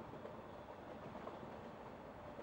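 Steady rumbling and rhythmic clatter inside a train carriage in Kingdom Hearts II, Twilight Town, continuous and even throughout with no speech.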